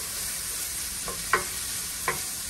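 Sweet pepper frying in a pan for a fish stew, a steady close sizzle with a few light utensil clicks against the pan, no talking.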